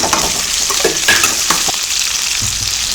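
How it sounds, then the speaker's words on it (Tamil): Small onions sizzle and hiss steadily in hot oil with crushed garlic and curry leaves, with a few spatula stirs and scrapes against the pan, close and continuous, with no voices. "சின்ன வெங்காயம் நல்லா வெங்காயம் வதங்கட்டும்"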